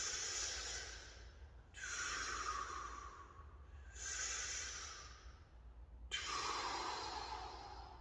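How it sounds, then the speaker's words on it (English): Slow, deliberate breaths drawn in and pushed out through the mouth during a fascial recovery and primal movement exercise, four long airy breath sounds in steady rhythm, close and fairly quiet with no talking. "We're gonna do 3 breaths in and out of the mouth."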